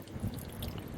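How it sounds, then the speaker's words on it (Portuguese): Steady running shower water splashing over a fish held under it during a roadside stop, a continuous close wash of spray and dripping with no talk. "o Neto já tá com o peixe na mão aqui, ó, já tá lavando ele aqui no chuveiro"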